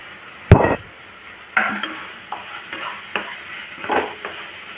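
Crispy Gujarati patra being stirred into a spicy chutney mixture, giving a few spaced scraping and clattering strokes, the first loudest, with a soft sizzle underneath, close and with no talk.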